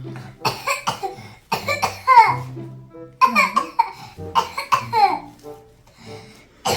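A young girl coughs several times in short bursts, close by, with a few brief voiced sounds and breaths between the coughs.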